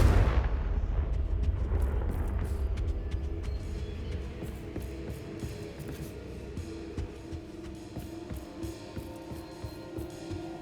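A Confringo blasting spell explodes in Hogwarts Legacy with a sharp, loud burst that rolls into a long rumbling decay, and a faint low hum lingers beneath as the blast fades out.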